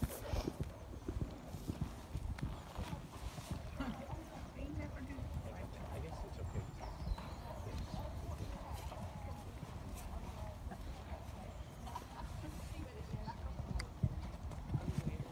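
A horse cantering over a show-jumping course at an 85cm qualifier, hooves drumming in a steady three-beat rhythm at medium distance, with a rider or trainer talking over it and faint outdoor background.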